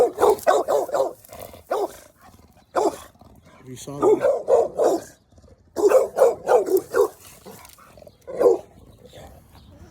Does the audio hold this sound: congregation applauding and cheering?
no